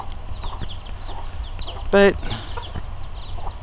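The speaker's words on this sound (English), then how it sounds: "So there's my 4 multi hens and the little one that was born this spring" Multiple hens huddled in a corner of a backyard chicken pen, giving soft scattered clucks and chirps against steady outdoor background noise, with one short louder squawk near the middle and a brief word of speech.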